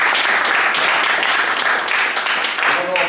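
A crowd at a state Republican Party gathering breaks into loud, sustained applause, many hands clapping densely and evenly for the whole stretch, with a faint voice underneath.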